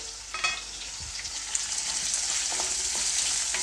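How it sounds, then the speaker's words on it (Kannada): Onion fries in hot oil with a bay leaf, cardamom, cloves, cinnamon and star anise, a steady close sizzle with a couple of light stirring clinks near the start. "ಈರುಳ್ಳಿದು ಒಂದು ಸ್ವಲ್ಪ ಹಸಿ ವಾಸಿ ಹೋಗೋವರೆಗೂ ಫ್ರೈ ಮಾಡ್ಕೊಳ್ತೀನಿ"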